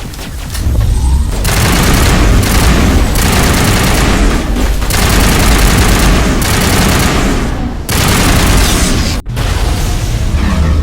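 Gunfire in a Mass Effect battle, sustained loud automatic fire with booming blasts in long bursts, broken by a few brief pauses, dense and close with no talk.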